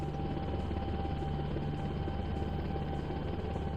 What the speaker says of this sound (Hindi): इस घनी बस्ती में खाने के पैकेट गिराकर हेलीकॉप्टर आगे बढ़ चला